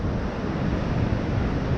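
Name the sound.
Augrabies waterfalls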